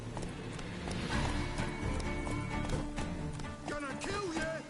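In The Witcher 3, the horse Roach gallops with rhythmic clip-clop hoofbeats under game music and combat noise, while someone talks over the action at low level.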